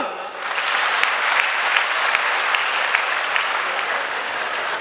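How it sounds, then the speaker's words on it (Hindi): An Arya Samaj audience claps steadily at a Baba Ramdev gathering, a dense, sustained wash of applause that starts abruptly and keeps an even loudness throughout, with no talk over it. "जरा ताली बजाओ"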